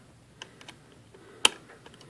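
Broken print ball being worked onto an IBM Selectric typewriter: a few soft plastic-and-metal clicks, then one sharp close snap near the middle, with no talk.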